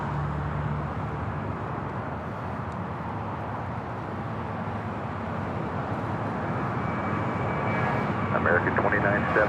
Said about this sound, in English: JetBlue Airways flight 2885 heading to Miami. It's an A321. Now rolling down 25 right.